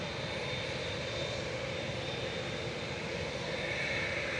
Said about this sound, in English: Turkish touching down from Istanbul, flight 1993 TCJTE A321 Classic